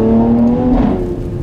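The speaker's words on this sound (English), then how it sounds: "downshift into second" A Mercedes-AMG C43 convertible with an AMG performance exhaust downshifts from third into second gear on a snowy drive near a tunnel, a loud, close engine drone rising then blipping briefly before settling.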